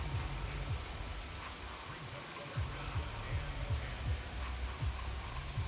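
Rain falls steadily across an American football field during a game, a constant hiss of drops with low rumbling pulses beneath it.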